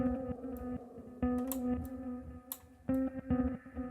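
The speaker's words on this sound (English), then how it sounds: "let's add a reverb as well" Synth chords through a reverb effect in Ableton Live, with a wide, washy tail, in short repeating trip hop phrases of sustained tones with bright accents, fairly quiet and alone.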